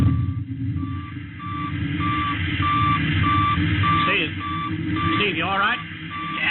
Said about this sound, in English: All right, now I'm advancing the ignition key.